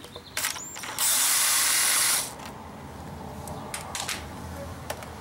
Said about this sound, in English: That's done by removing a 4 millimeter cap screw